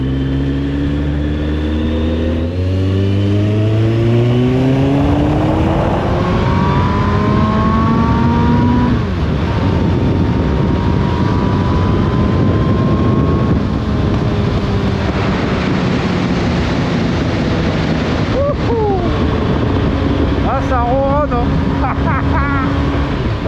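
A 1996 Suzuki Bandit 1200 motorcycle engine revs and shifts through gears, pitch rising and falling repeatedly, loud and close, with a steady rumble throughout.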